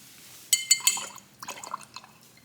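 Acrylic ink flicked onto a sketchbook page, giving a few sharp wet taps followed by a scatter of softer small drips and splats, close and fairly quiet, with no talking.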